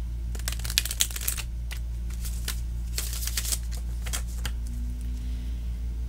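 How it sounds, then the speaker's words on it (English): Tarot cards being shuffled by hand, with irregular crisp riffles and flicks close up over a steady low hum, with no voice. "I'm just going to shuffle a couple more times here."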